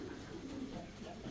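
A fancy pigeon, a round-bodied bird close to laying, gives a brief, soft, low coo at close range in a quiet space.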